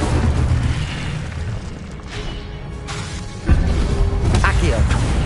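A fire-spell blast in Hogwarts Legacy on PS4: a sudden loud boom with a whooshing burst lands partway through, over a continuous bed of game noise and talk.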